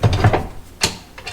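A quick-release ratchet clicks in short bursts close up, a rapid cluster of ticks followed by two sharper single clicks, during rust repair on a 1969 Chevy Nova.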